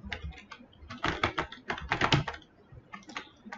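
Quick bursts of typing on a computer keyboard while entering a web address, keystrokes clustered in rapid runs with short pauses, fairly quiet and close, no talking.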